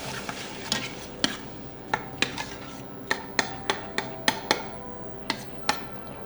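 Stewed tomatoes cooking down over a base of aromatics in a pot, a spoon stirring with sharp scraping clacks at an irregular pace over a faint simmer, close and fairly quiet, with no talking.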